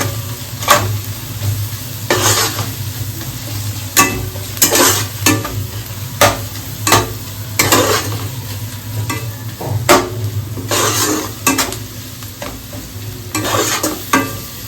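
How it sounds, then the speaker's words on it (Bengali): Spice paste with ginger paste frying in a pot for chicken pulao, giving a steady sizzle broken by repeated loud scraping strokes of a spoon or spatula at an irregular rhythm, close and prominent, with no talking. "আর একটুখানি আদা বাটা দিয়ে এবার আমি এটাকে আবার একটু ভেজে নেব"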